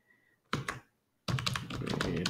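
Typing on a computer keyboard at a terminal: a short burst of two keystrokes, a pause, then a rapid run of close, clicky keystrokes.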